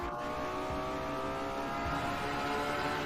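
A Ferrari 599XX Evo in Forza Horizon 4 accelerates hard, its engine a sustained high-pitched roar that climbs steadily with road noise underneath and no talking.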